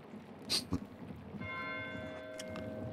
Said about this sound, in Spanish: ¿Pero qué hace Mateo tocando las campanas?